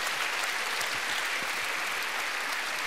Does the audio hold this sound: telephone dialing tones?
no